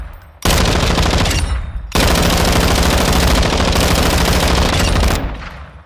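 Rapid automatic fire from an F-Tac Ripper SMG in a shooter game, two long sustained bursts separated by a brief pause near the start, loud and close, with the second burst trailing off at the end.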